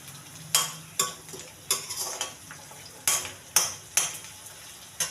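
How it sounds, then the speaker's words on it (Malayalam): Onions fry in a pan as sauces are poured in and stirred, with a steady sizzle broken by sharp, regular scrapes and clinks of a utensil against the pan about once a second. "സോസുകൾ ഒഴിച്ചു കൊടുക്കാം"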